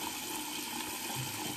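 Hot water runs steadily from a tap to prepare for a wet shave, a constant close rush with no talking over it.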